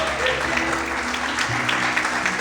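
Steady applause from a church congregation fills the space, broad and continuous, with faint voices underneath.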